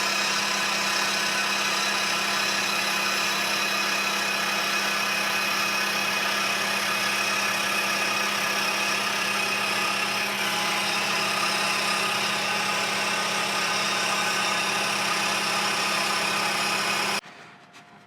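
Steady, loud machining drone from a mill cutting a roll-in saw table at about 1800 RPM, taking 25-thousandths step-over passes, continuous for most of the clip before cutting off near the end, with no talk.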